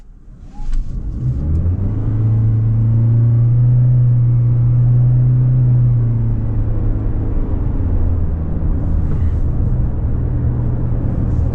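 A 2026 Toyota Corolla Cross SE Hybrid pulls away and accelerates, its engine rising into a strong, steady drone heard from inside the cabin, then settling into lower road rumble as speed builds.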